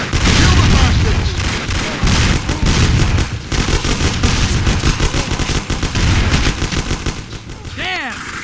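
Dense gunfire crackles in the Mafia video game, rapid overlapping shots and bursts in a loud firefight that continues almost without pause before easing near the end, with ricochet-like whistles.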